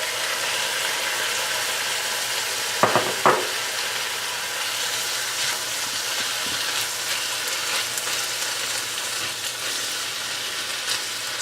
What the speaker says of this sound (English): once your garlic has been cooking for a minute, we're now going to add our tomatoes and mix well